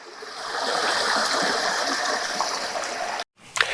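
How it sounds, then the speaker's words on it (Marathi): Waterfall at Madhe Ghat in the Sahyadri hills, water rushing steadily downhill in a loud, broad wash that runs unbroken, drops out briefly near the end, then resumes. "हळूहळू आता तुम्ही बघा पाणी खाली जायला सुरुवात झाली आहे"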